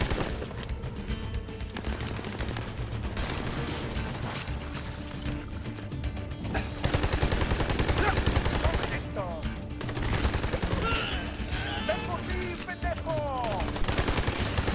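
Rapid bursts of gunfire in the video game Army of Two: The Devil's Cartel rattle almost nonstop, mixed with mechanical clanks and other game effects.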